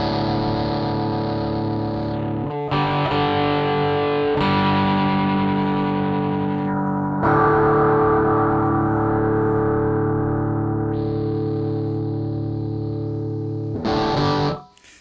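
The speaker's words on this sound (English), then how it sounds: "amounts of distortion and different kind of timbres and tones to the whole thing" A heavily distorted electronic tone sustains, shifting in timbre and grit across several sections with sharp cuts between them before it abruptly stops.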